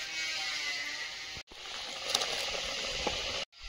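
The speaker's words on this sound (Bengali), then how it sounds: "ঝোলটা ফুটছে, এবার চুনো মাছগুলো দিয়ে দেবো।" Curry broth with ginger and cumin paste bubbling in a pot before small fish go in, a steady close bubbling hiss with brief pops, cut by two short gaps.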